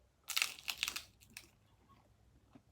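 Pizza Hut pizza crust crunches in a few quick, crisp bites up close, then fades to faint chewing in a quiet room.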